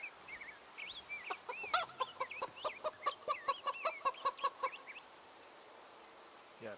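A chicken in the Project Zomboid video game clucks in a quick, steady run of short calls while being petted, the clucks close and clear over a soft background hiss.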